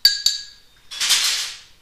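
Ice clinking in a mixing glass as a whiskey Manhattan cocktail is stirred, two sharp glassy clinks followed by a brief rattling swirl of cubes, close and alone.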